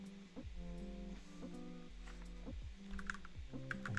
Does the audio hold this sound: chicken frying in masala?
no